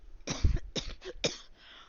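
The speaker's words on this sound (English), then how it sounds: "what is going on with my cough?" A few short, close coughs in quick succession, sharp bursts separated by brief pauses, then quiet.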